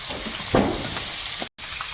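Shrimp, panch phoron and boiled garlic dropped into a little hot oil, sizzling in a steady close hiss with a sharp crackling burst as the ingredients land, then a brief cut before the frying continues.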